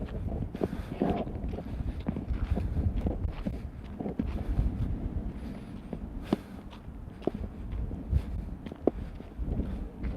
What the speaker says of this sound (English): it's a little bit windy in this section